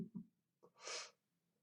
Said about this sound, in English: a bit of finger sniffing.